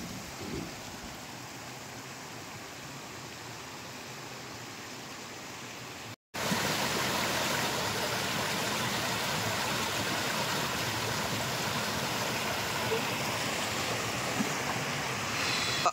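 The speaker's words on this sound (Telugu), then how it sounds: "మనం ట్రెక్ చేసే ఆన్ ద వేలో ఈ వాటర్ ఫ్లో అయితే కనిపించింది." A mountain stream flowing along a trekking trail at Glendalough, Ireland, gives a steady broadband rush of water close by. A brief dropout splits it, and the sound returns louder and fuller.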